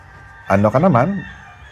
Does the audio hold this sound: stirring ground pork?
no